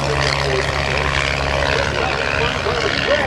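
A modified Pitts S-1S aerobatic biplane with an IO-360 engine roars steadily at an airshow, a loud continuous propeller drone with no letup through the whole stretch.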